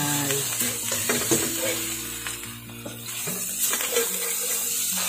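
Mama instant noodles stir-fried in a pan with dark soy sauce, seasoning sauce and sugar, a steady close sizzle with scraping and tossing sounds throughout.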